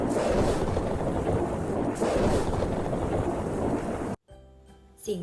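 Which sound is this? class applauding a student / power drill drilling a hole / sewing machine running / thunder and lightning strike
thunder and lightning strike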